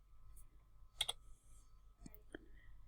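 A couple of quick computer mouse clicks come close together during design software work, soft and near in a quiet room, followed by a few fainter clicks.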